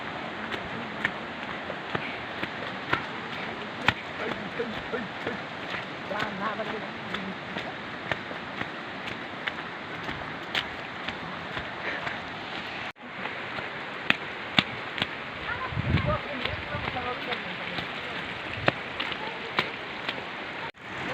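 Steady rain pours outside a cave on a trail cut off by heavy rainfall, a continuous wet hiss with scattered drips and splashes, loud throughout, with voices talking faintly underneath at times.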